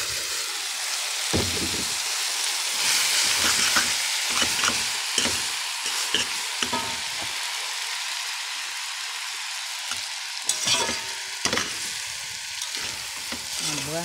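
Spaghetti sizzles and fries in a pot under close, repeated scraping stirring strokes, a steady crackle running throughout with faint talk in places.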